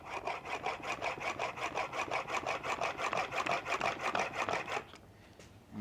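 A shoulder plane blade is polished on a sharpening wheel, a rhythmic back-and-forth rasping of steel on abrasive at about four strokes a second, close and steady, stopping near the end.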